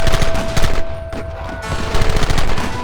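Loud, dense gunfire from Red Dead Redemption crackles in rapid overlapping volleys, with only a brief thinning midway before the shooting swells again.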